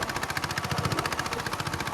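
A mini tractor engine runs with a fast, regular chugging pulse that holds steady, close and moderately quiet throughout.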